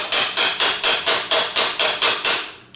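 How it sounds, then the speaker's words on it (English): About ten sharp, evenly spaced hammer blows ring out on a metal tool during a Toyota Camry 2.4 oil and filter change, close and crisp, with no talking. "and then I hammer that little bit"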